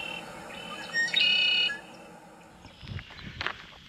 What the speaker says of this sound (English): Red-winged blackbirds were everywhere, and their calls filled the air.